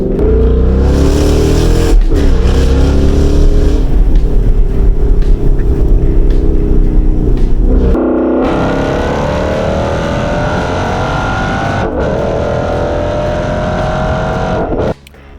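Ford Mustang S550 with a Coyote V8, its exhaust loud and close, rising and falling through rumbling revs, then settling into a steadier, smoother drone before cutting off.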